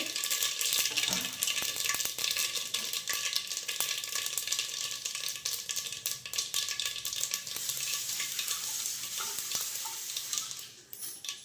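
Mustard seeds sizzling in hot oil in a pan with peanuts for tomato bath, a continuous bright crackle and hiss with scattered popping and the clink of a stirring utensil, close and steady.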